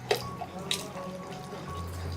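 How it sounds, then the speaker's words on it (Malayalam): A quarter cup of water is poured into flour to mix batter for a steamed snack, giving a few soft, close drips and small splashes over a quiet kitchen background. "ഞാൻ വീണ്ടും 1 കപ്പ് വെള്ളം എടുത്തിട്ടുണ്ട്. ഒരു 1/4 കപ്പ് ഒഴിച്ചു കൊടുക്കാം."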